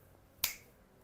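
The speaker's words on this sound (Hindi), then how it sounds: "चुटकी में भी समय लगता है, बजने में" A single sharp finger snap, close and crisp, stands alone against a faint, quiet background hum.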